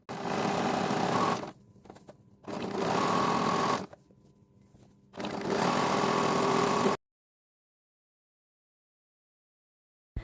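A sewing machine stitches pieces of stretchy waste cloth together for a bean bag in three loud, steady runs broken by short pauses, then falls silent.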